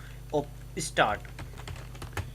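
A computer keyboard clicks as a command is typed into Command Prompt, with a few separate keystroke bursts close and clear in a quiet room.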